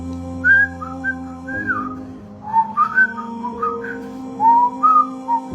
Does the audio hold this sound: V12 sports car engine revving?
no